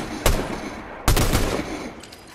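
Two sharp gunshot blasts from a Fortnite-style shooter game, one near the start and a louder one about a second later, each trailing into a rumbling decay with no talking.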